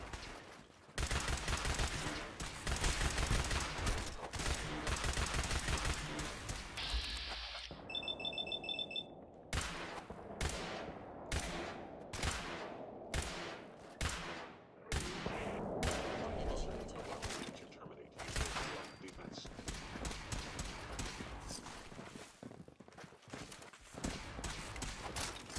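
Gunfire in Fallout 4 on very hard difficulty, bursts of rapid automatic shots followed by a string of sharp single reports spaced about a second apart, loud and close, with a brief electronic beeping tone between them.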